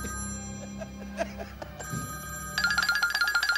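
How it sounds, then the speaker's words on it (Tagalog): A telephone bell rings in rapid, insistent bursts, loud and close, after a stretch of background room noise with faint tones. "Ano yan? Telepono."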